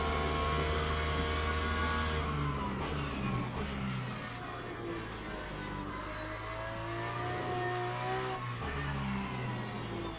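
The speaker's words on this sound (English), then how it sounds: "when you're accelerating in this car" Race car in the Le Mans Ultimate racing game accelerating on the throttle without a setup, a loud continuous engine drone whose pitch climbs through the gears with brief shift dips, steady and close throughout.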